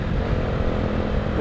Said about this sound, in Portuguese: é uma motinha bem boa pra andar no dia a dia, leviana, não gasta muito, bem econômico